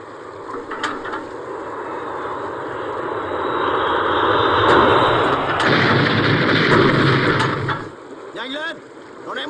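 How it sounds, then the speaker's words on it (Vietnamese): Bombing explosions in a Vietnam war film, a rumbling blast that swells from low murmur to a sustained loud roar with debris crackle, then cuts off abruptly, followed by brief faint movement. "Nó ném bom bây giờ"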